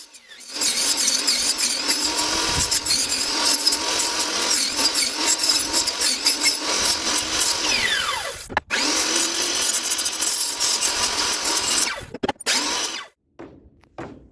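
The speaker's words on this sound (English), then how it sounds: "I just set my bump stop on my chop saw at the correct depth and just go to town like you see right here" A chop saw cuts wood for table legs, a loud continuous whining buzz through the blade with a short pause and a few clunks near the end, no talk.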